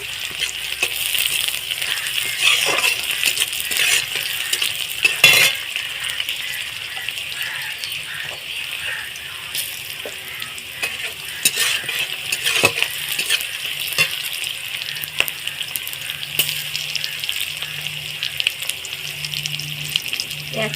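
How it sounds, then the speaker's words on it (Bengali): Onions and two green chillies fry in a pan with a steady, bright sizzle running throughout, broken by occasional clinks and scrapes of a stirring spoon against the metal. "লাল লাল করে একটু ভেজে নেব আর দু পিস কাঁচা লঙ্কা দিলাম"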